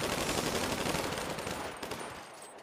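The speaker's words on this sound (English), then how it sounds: "Firing squad. Ready. Aim. Fire." A firing squad volley in a video game, a dense, loud burst of many overlapping gunshots that rattles for a couple of seconds before tailing off.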